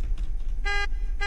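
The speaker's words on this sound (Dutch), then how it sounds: "Ik toeterde net." Two short, steady car horn toots from a video game vehicle, the second arriving about half a second after the first, each sounding over a constant low engine rumble.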